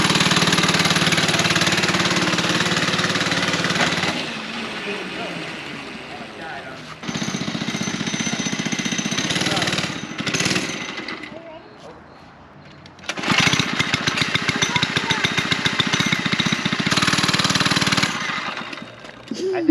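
Small gas engine of a Baja Doodlebug mini bike running near, loud sputtering bursts that rise and fall as the throttle changes, with gaps between runs and a brief voice at times.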